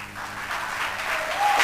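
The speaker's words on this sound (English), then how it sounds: "Clap for her, come on, clap for her, clap for her" An audience claps in a dense, continuous burst of applause that holds steady and slightly swells over a short moment, with a faint whistle near the end.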